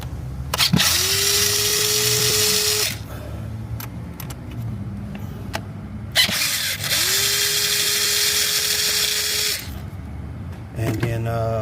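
A power tool backing screws out of the engine of a 2013 Jeep Grand Cherokee during oil pressure sensor and filter housing gasket work: two long, loud whirring bursts with rising pitch, separated by clinks and handling noise.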